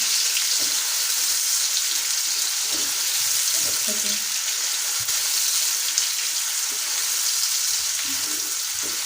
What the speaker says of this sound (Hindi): प्याज को हम अच्छी तरह गोल्डन ब्राउन करेंगे ताकि हमारे बिरयानी का कलर बहुत अच्छा बने